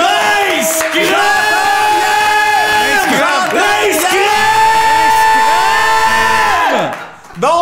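Several people shout and yell loudly together at the opening of a French-language podcast, a continuous crowd-like roar of whoops and cries with strained, rising voices that fades out at the end.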